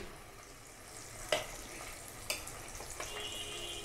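Hilsa fish tails go one by one into a little soybean oil in a frying pan, giving a faint steady sizzle with a few sharp crackles as each piece lands.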